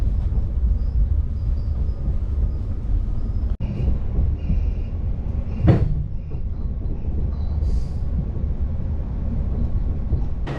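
A steady low rumble of a moving passenger train heard from inside a carriage in Serbia, with occasional clacks and a sharp knock.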